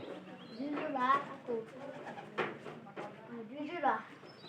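Domestic pigeons kept in pairs in a home coop coo softly in repeated throaty, rolling calls over a steady murmur, with people talking nearby.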